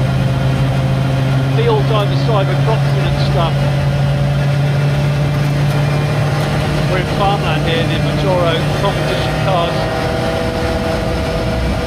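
A reborn Lancia Rally 037 Group B restomod cruises gently along a country road through farmland, its engine holding a steady, buzzing drone from inside the car while someone talks over it continuously.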